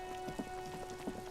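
Rain in the video game Disco Elysium, a faint, even patter with light scattered drops throughout and no talking.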